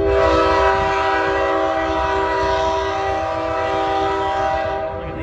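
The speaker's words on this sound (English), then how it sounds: "this is Amtrak 20, heading to Charlotte, North Carolina" Amtrak 20 passenger train departing Birmingham station with a long, loud sustained horn blast over a low rumbling engine, close by and fading slightly at the end.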